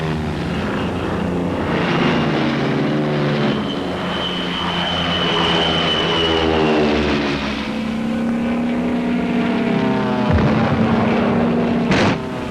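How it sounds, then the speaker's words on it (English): P-47 Thunderbolt fighter planes take off from a wartime airfield in the Marianas, their propeller engines roaring loud and steady throughout, with a rising and falling drone as the aircraft pass, alone with no talk. "Thunderbolts take off from our new field."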